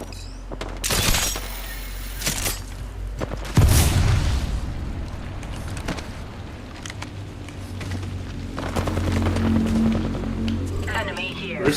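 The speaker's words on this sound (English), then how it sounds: "They're shooting at me." Gunfire and booming impacts in a battle royale game, with loud bursts and a heavy boom near the start, then scattered shots and game noise, while a voice talks over it.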